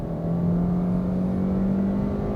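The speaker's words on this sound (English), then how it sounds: "let's put the car into sports and drive" A 2021 Hyundai Elantra accelerating in sport mode, heard from inside the car as a steady engine drone whose pitch rises slowly, with road rumble underneath and no talking.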